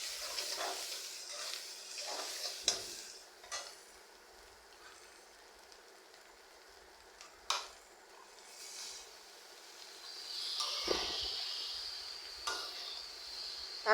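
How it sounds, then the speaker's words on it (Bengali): Ash gourd stir-fry goes into a pan with spice-fried fish roe, giving intermittent sizzling hiss with scattered clinks and scrapes of stirring, fairly quiet and without talk. "এখন আমি ভাজিটাও দিয়ে দিব।"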